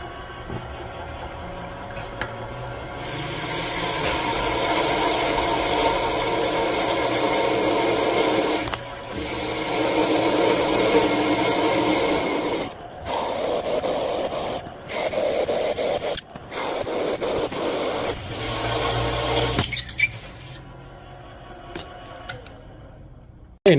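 A core drill cuts valve guides in a Ford 351C cylinder head, a steady close whirring grind that runs for long stretches and is broken by several short pauses and stops near the end.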